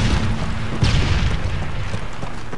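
Grenade explosion in the video game Modern Warfare 3, a loud, close boom with a sharp onset followed by a continuous low rumble.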